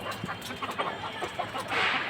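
Hens and a rooster of mixed breeds, including Sonali, Black Australorp, Fayoumi and Kadaknath, cluck in a small rooftop flock, with scattered short calls and a busier burst of noise near the end.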